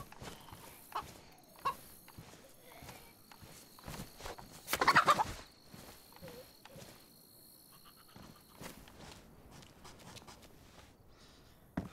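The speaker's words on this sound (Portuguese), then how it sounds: "Ó, tem uma galinha, já serve pra pegar o osso." Turkey-like fowl gobbling and clucking in the DayZ survival game, several short calls scattered through the clip with one louder burst midway, over quiet ambient insect chirps.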